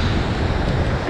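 Ocean surf breaking over a shallow reef, a loud, continuous broadband roar of churning water with wind buffeting the microphone throughout, no voices.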